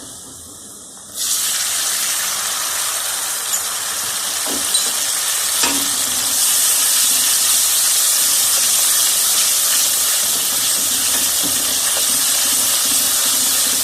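A sudden loud hiss as half a cup of water hits a hot pan of fried onion and ginger-garlic paste, settling into a continuous steamy sizzle with occasional light taps.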